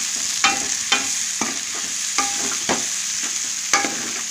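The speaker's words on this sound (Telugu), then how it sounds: "ఇంత మొత్తం ఫ్రై చేస్తున్నాం." Mutton pieces fry with chili powder, turmeric, salt and garam masala in a pan for a brinjal curry, a steady sizzle broken by regular scraping stirs about every half second to second, close and alone.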